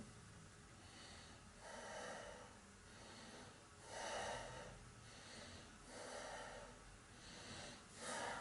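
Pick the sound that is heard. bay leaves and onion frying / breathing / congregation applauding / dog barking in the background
breathing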